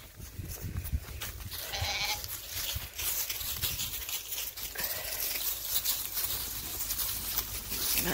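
A flock of ewe lambs on a sheep farm bleats repeatedly, with overlapping calls near and farther away over soft outdoor rustling and patter.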